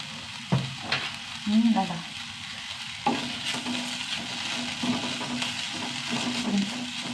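Eggplant fries in a pan with turmeric, a steady sizzle broken by scraping spoon strokes as it is stirred, close and clear with almost no talk.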